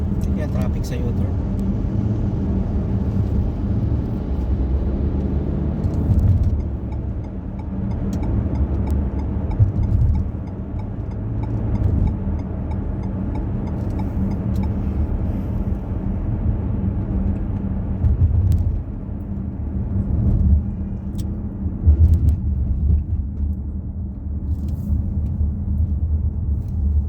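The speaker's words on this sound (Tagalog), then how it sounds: "Yan, traffic sa U-turn." Road traffic at a U-turn in Riyadh, heard from inside a vehicle as a steady low engine and tyre rumble throughout, with people talking over it.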